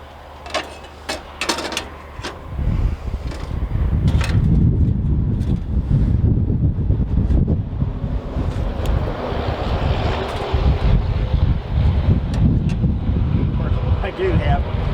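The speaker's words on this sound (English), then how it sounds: "I do have the wind blowing straight in this way" Strong wind roars into the microphone at an Alaska camp cabin during summer, a loud continuous rush with gusty swells, preceded by a few sharp knocks at the start.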